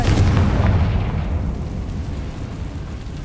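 A Confringo blasting spell from the Hogwarts Legacy video game goes off as a loud, deep explosion with a heavy low rumble that slowly fades over a few seconds.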